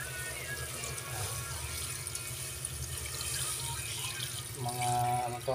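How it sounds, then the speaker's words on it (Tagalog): Water pours into a cooking pan with garlic, a continuous splashing rush of liquid that grows louder near the end, with faint kitchen background noise. "lagyan natin siya ng tubig"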